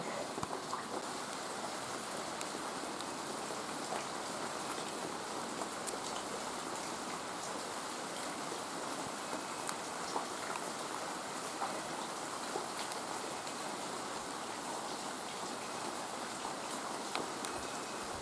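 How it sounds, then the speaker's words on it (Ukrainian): Gentle rain falling on a garden on a calm, windless day, a soft, even, continuous patter with no gusts or talk. "Оце дуже гарний дощ"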